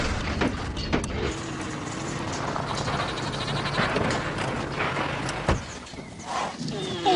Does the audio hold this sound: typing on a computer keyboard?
no